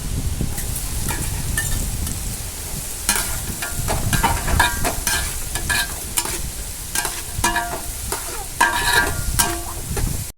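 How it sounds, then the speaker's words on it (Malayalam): Continuous sizzling of tomato and green chilli frying in hot oil with onions for egg curry, with scraping and clattering of a spoon stirring through the pan. "അടുത്തായിട്ട് നമുക്ക് തക്കാളിയും പച്ചമുളകും ഇടാം കേട്ടോ."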